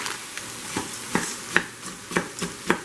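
Frozen cauliflower rice from Costco sizzles in hot oil in a pan, a steady close fry punctuated by a regular series of scraping stirs, about one every half second.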